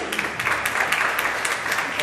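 A small audience at an award presentation applauds as winners come up one by one, a faint, steady patter of many hands clapping continuously through the moment.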